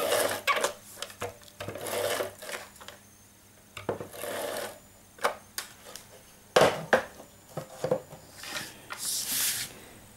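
A large tape dispenser pulls and tears adhesive tape to stick onto a handmade card, giving close, dry rasping bursts and short tearing strokes in an irregular rhythm, with quiet pauses between them.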